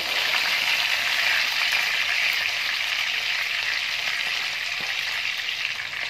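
Kofta deep-frying in hot oil until golden brown, a loud, dense, continuous close sizzle that stays steady throughout with no talking.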